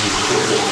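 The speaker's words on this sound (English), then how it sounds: "How about we take a quick shower?" Water pours steadily from a rain-style shower head in a rock-lined shower at a luxury hotel in Kandy, Sri Lanka, a close, even, continuous hiss with no voices.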